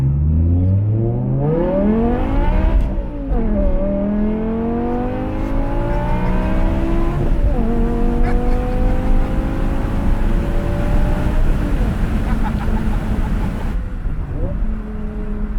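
The V10 engine of a manual E60 BMW M5 accelerates repeatedly, pitch rising through each gear then dipping at shifts, loud and close for the whole stretch.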